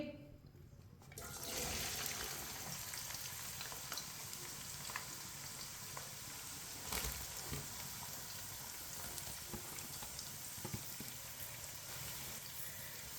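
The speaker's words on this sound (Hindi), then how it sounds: "ऑयल हमारा अच्छी तरह गर्म हो चुका है। प्याज डाल लेंगे।" Onions drop into hot oil for a Hyderabadi chicken biryani, setting off a sudden loud rush of sizzling. The steady hiss of frying then carries on close by, with occasional stirring clatter.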